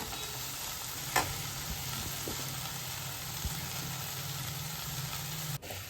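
Chopped fresh coriander is stirred and sautéed in a hot pan for chutney, giving a steady, moderate sizzle with a soft scrape or two and a faint low hum beneath, without speech.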